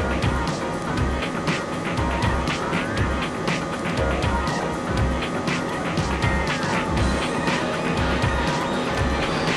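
Race cars in a racing video game roar continuously at high revs, with tire squeals and skids cutting through the steady, loud engine drone throughout.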